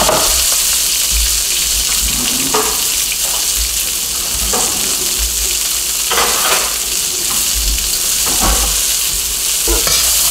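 Kale and garlic scapes frying in about a tablespoon of olive oil in a pan, a loud continuous sizzle broken by scraping stirs every second or so as the greens are moved around.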